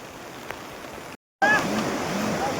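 A stream rushing through a flooded village as a steady, loud broadband roar, broken by a brief dropout partway through, with faint voices just audible over the water afterward.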